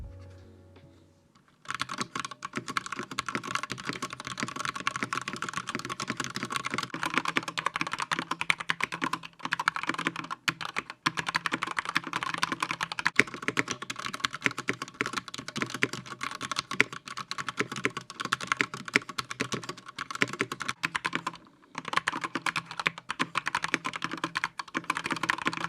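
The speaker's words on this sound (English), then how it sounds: "altering the sound of the keyboard to make it warmer, deeper, or what we call a little more thockier" Steady typing on a tape-modded mechanical computer keyboard, a dense run of deep, muted clacks close to the ear, continuous for over twenty seconds with only brief pauses.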